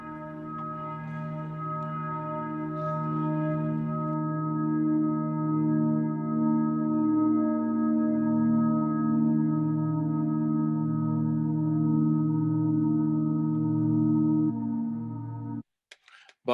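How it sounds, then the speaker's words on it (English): Processed bells convolved with themselves in a soundscape composition form a dense sustained drone of layered bell tones that swells steadily, then cuts off abruptly near the end. "the bells, for instance, that could be convolved with themselves"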